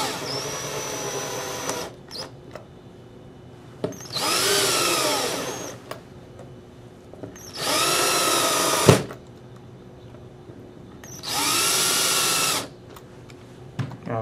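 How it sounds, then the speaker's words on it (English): Power drill driving screws into a cyclone feed plate: three separate bursts of whirring motor, each lasting about a second or more, with quiet pauses in between, close and fairly loud. "I'm going to be really careful being that I'm using a drill"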